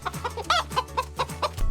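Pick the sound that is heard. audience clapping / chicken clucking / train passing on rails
chicken clucking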